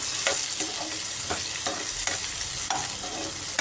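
Tomato fries with mushrooms in a pan for roadside-style mushroom fry, a close, steady sizzle broken by repeated scraping stirs of a spatula, with no voices.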